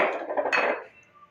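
Metal pressure cooker being handled in a home kitchen while making partridge pulao, with a sharp clank of metal against metal followed by a short rattle that fades into quiet.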